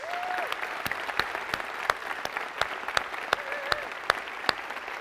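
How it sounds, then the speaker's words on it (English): Steady clapping from a church congregation fills the room, with a few louder individual claps standing out and a faint voice briefly audible over the applause. "let's give him a warm round of applause"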